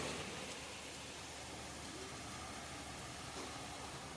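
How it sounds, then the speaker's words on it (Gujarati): Rain falling steadily outdoors, a continuous broadband hiss of drops on surfaces that holds level throughout, with a faint low rumble underneath and no voices. "વરસાદ ફરી વાર શરૂ થઈ ગયો છે ભાઈ, જોઈ શકો છો."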